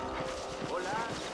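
Horse hooves clip-clop at a steady walking rhythm in the Western video game Red Dead Redemption, faint and close under continuous spoken dialogue.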